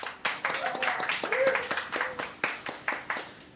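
Small, intimate audience clapping at a live podcast taping, a sparse scattering of individual hand claps with uneven rhythm, fairly close, while someone talks over it.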